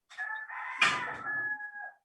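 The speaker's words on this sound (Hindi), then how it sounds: "किसका मुर्गा बोल रहा" A rooster crows once, a drawn-out cock-a-doodle-doo with a raspy middle, heard fairly clearly from a short distance and alone with no talking.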